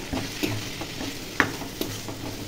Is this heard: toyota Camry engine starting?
no